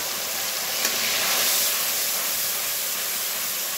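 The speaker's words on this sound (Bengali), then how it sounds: "এবার এই তেলের মধ্যে দিয়ে দেব এই মশলাগুলো।" Green chili, ginger and garlic paste dropped into hot oil for a fish curry gives a steady, loud, close sizzle that holds unbroken through the whole stretch, with no talking.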